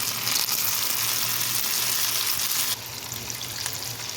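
Chopped tomatoes hit browned onions in a hot pan and fry with a steady, close hiss that drops slightly partway through, with no voices.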